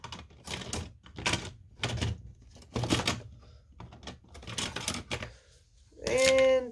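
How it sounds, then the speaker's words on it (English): Scissors cut plaid ribbon for a snowman top hat in a series of crisp, rhythmic snips and clacks, close and fairly quiet, ending with a brief tonal squeak. "so once I get back around, I'm going to bring out the scissors"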